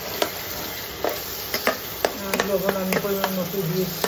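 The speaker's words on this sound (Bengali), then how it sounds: "দিলাম একটা ডিম, এখন ডিম আর মাংসটা ভালো করে ভেজে নিচ্ছি।" Meat and an egg fry in a pan over a high flame, seasoned with soy sauce. Bright sizzling runs under a stream of sharp scraping and stirring clicks, while someone talks over the cooking.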